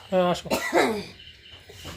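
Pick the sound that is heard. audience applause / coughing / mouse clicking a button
coughing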